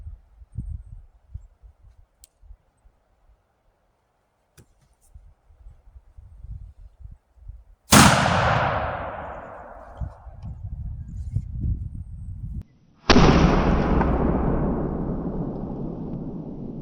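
A heavy homemade gun fired from the shoulder lets off two sharp, loud blasts several seconds apart, each ringing out into a long decaying rumble, with quiet handling noises before the first shot.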